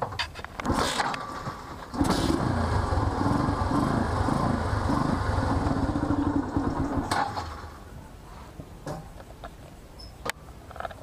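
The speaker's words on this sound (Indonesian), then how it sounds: "Saatnya sekarang kita mencoba menyalakan motornya, teman-teman." A motorcycle engine starts after a flooded carburetor is fixed, sputtering into a loud, close idle that runs unevenly for several seconds before dying down to quieter ticking and clicks.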